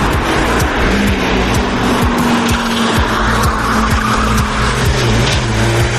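A Peugeot 205 racing hard against a Lamborghini Gallardo, its engine roaring loud and close with sustained tire squeal and skidding throughout, the engine note rising and dropping as it is pushed through corners.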